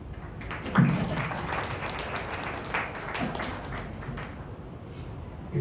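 An audience claps in a steady, dense wave of applause after a poet is introduced at a patriotic poetry gathering, rising sharply near the start and then holding at an even level to the end.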